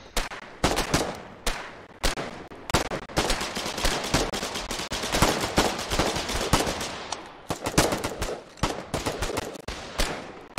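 Machine gun nests in a video game keep up loud, dense bursts of rapid gunfire, one volley after another, with short gaps between the bursts.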